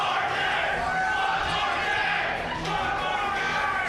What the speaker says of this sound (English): The crowd is popping off.